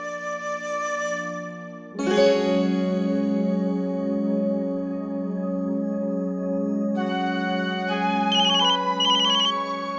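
A phone ringtone plays loudly, an electronic melodic tune that shifts partway through, with bright chiming tones and no voices over it.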